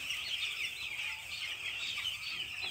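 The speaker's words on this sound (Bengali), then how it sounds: "আমাদের মুরগির ফার্ম দেখো" A poultry farm holds many chickens, whose calls blend into a dense, continuous clucking and chirping chorus. The steady flock noise carries on without pause and no voices are heard.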